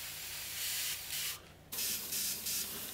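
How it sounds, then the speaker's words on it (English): Airbrush spraying white paint onto a Meng Mustang model kit, a steady close hiss in several bursts with a brief pause in the middle. "So what we're going to do is literally spray this in."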